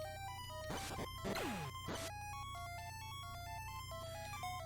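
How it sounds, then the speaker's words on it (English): Seiken Densetsu's poison status effect plays as a chiptune jingle of stepped electronic tones, with quick downward and upward swoops and a steady low buzz beneath, heard faintly and alone. "That is the sound of poison."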